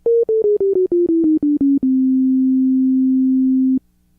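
A synthesized sine tone pulses in quick steps, sliding slightly downward, then holds as one steady, loud pure tone before stopping abruptly.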